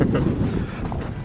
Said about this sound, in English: Pretty windy, huh?